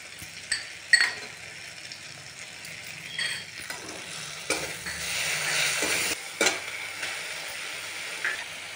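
Onion paste fries in a pan for an egg mustard curry, with a soft sizzle under intermittent scraping and clicking strokes of a spatula, fairly quiet and close.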